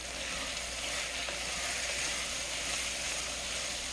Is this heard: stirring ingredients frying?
yes